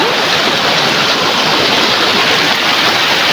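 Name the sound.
river water flowing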